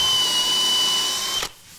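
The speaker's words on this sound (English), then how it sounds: "so we're just going to pre-drill" A power drill whines steadily while pre-drilling screw holes in a wooden media cabinet, running close and loud before cutting off abruptly near the end.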